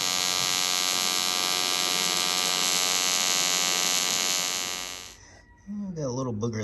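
Everlast PowerTig 210EXT TIG welder runs on aluminum as a steady loud electric buzz and hum for about five seconds, then cuts out, and a voice begins speaking.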